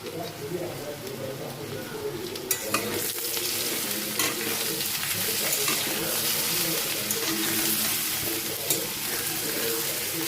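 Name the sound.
ginger and green chillies frying in a pan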